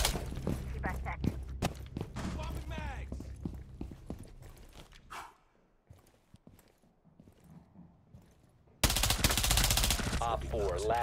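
Rapid bursts of automatic gunfire in a first-person shooter, loud and close, with sharp repeated shots coming in clusters, a short quieter lull, then a dense final volley. People talk over the action.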